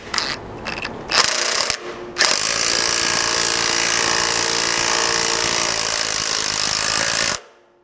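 A power tool drives a 3/8 self-threading bolt into an FJ Cruiser frame during a slider mount install, with a short start-stop buzz, then a loud continuous ratcheting whir for about five seconds that cuts off.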